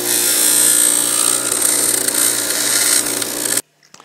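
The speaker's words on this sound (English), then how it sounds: "I can just be a lazy bastard and just grind it off" A power grinder whines steadily against a homemade copper circuit board as it removes excess copper, loud and close, then stops abruptly near the end.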